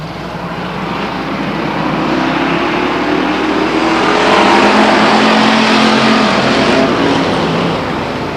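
Race cars roar around the oval at Stockton 99 Speedway at the start of a race, a dense, continuous engine drone that swells toward the middle and stays loud throughout, with no talk.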